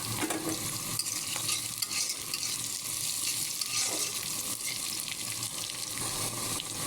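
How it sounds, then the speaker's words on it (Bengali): Sliced onion and green chilies hit hot oil in a kadai while cooking a potato and yardlong bean fry, giving a loud, dense, continuous sizzle with stirring scrapes close up and no voices. "কড়াতে তেল গরম দিয়েছি, দিয়ে দিচ্ছি পেঁয়াজ আর কাঁচামরিচ।"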